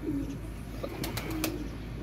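Soft, low pigeon coos repeat a few times nearby, over a steady background hum with a couple of sharp clicks.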